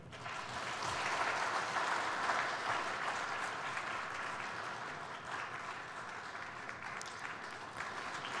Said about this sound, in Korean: 인사하실 때 큰 박수 해주시면 감사하겠습니다